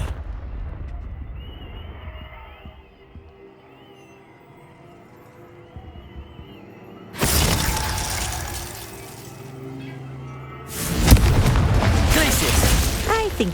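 Confringo fire spell bursting against a practice target in Hogwarts Legacy, two loud broadband blasts a few seconds apart, each rumbling on after a quieter stretch with faint background tones.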